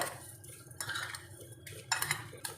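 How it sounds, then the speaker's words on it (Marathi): A spoon stirs sugar in a bowl, making a few short bursts of scraping and clinking metal against the dish, close and quiet. "आपल्याला हे मिक्स करून घ्यायचं आहे"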